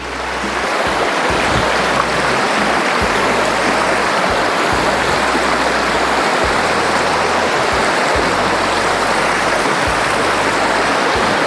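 A large, clear stream flows steadily at a rural bathing spot, giving a loud, continuous rushing wash of water with a low rumble underneath. No one talks.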